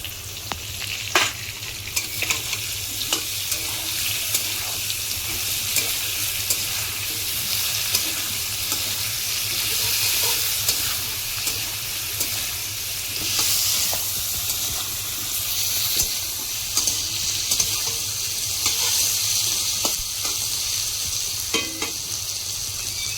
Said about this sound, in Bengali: এবার আমাদের পেঁয়াজটা লাল করে ভাজা হয়ে গেল